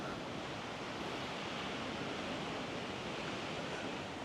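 Sea waves washing onto the shore at Gunung Kombang beach, a steady broad roar of surf mixed with wind, continuous and moderately distant, no voices.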